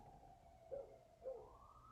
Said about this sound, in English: Sirens, I love living in a city.